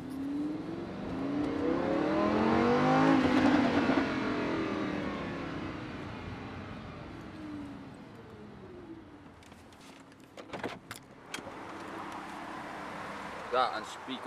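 A supercar with a custom Rift exhaust revs and roars nearby, the engine pitch sweeping up and down before fading, followed by clicks and people talking.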